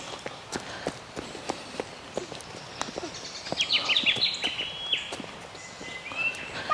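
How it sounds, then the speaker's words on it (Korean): Several birds of four or five species sing and chirp at once in an Australian park, bright calls overlapping outdoors, with a few sharp taps or steps mixed in. "아주 예쁜 새소리가 들립니다."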